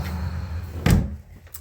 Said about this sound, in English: I'm going to close this door behind me